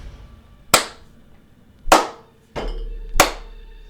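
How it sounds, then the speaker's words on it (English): Four sharp, loud slapping hits spaced about a second apart, a slow clap heard alone in a Resident Evil 3 game session, each crack ringing out briefly. "the slow clap"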